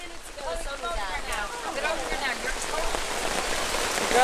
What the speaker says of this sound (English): I'll try to speak a little louder because all this rain, it is muffling.